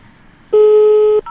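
A telephone keypad sends one long steady dialing tone lasting well over half a second, clear and close, followed by the start of a brief second tone.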